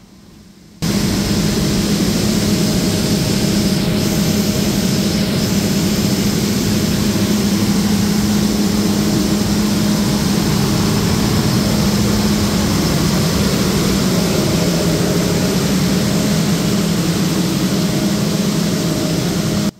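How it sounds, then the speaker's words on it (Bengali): The power car engine of the Dhumketu Express runs in a steady, loud drone with a deep low rumble and a broad hiss, starting suddenly after a quiet second and holding unbroken with no talk. "এটি হলো ট্রেনটির পাওয়ার কার।"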